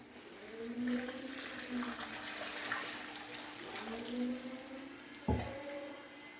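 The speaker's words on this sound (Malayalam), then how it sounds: "ആവശ്യത്തിന് വെള്ളം ഒഴിച്ചു കൊടുക്കാം" Water runs into a pan of frying mango pieces for pickle with a steady hissing gush, near and fairly soft, ending with a brief clunk.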